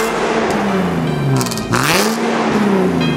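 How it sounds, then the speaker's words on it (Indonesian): A Nissan 370Z Nismo S-Tune with its 3.7-litre six-cylinder engine revs loudly and close by, its pitch sweeping up and down through repeated throttle blips with no one talking. "raungan mesin 6 silindernya sih enak banget mobil ini"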